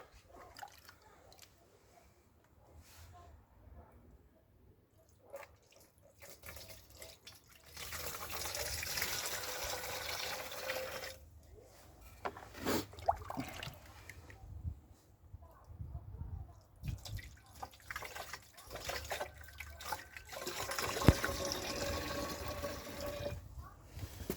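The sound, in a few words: pouring liquid with a ladle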